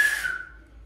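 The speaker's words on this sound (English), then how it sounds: "There's the old whistle." Old whistle inside a disused prison gives a single sharp, shrill tone at the start that quickly fades away into quiet.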